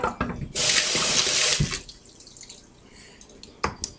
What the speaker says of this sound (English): I'm going to rinse that bowl right away